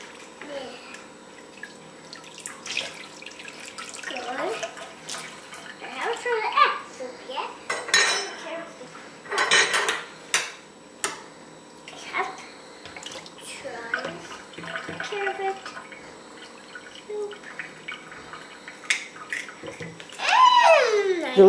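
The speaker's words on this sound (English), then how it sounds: "Try to keep the water in the sink if you can" Water runs in a kitchen sink while a young child washes dishes, with intermittent splashing, trickling and clinks of dishes and cutlery, close by and broken up by a child's and an adult's voices.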